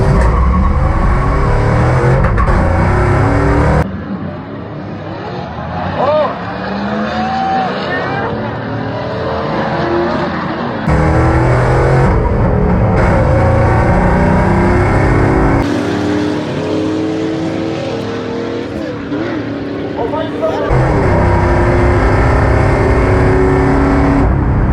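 A Jeep ZJ drag racing against another vehicle at Nascarlo delivers loud, close engine roars with sweeping revs, abrupt cuts and shifts between throttle bursts.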